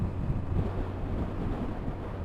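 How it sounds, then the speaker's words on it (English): Crosswind buffets the microphone on a motorcycle ride in a steady low roar, gusting unevenly throughout with no voices. "A bit windy."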